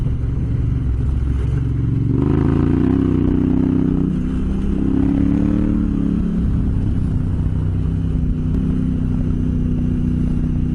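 Loaded off-road motorcycle ridden across rough, rocky desert terrain on a long trip, its engine rumbling steadily with rising revs and clattering over bumps, loud and continuous throughout with no talk.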